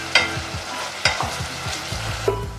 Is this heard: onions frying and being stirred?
yes